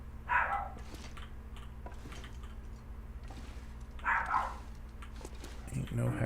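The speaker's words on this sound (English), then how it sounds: "The dogs are going ape shit." Dogs barking in the survival game The Long Dark, in two short bursts of several barks each, separated by a few seconds of low steady background hum.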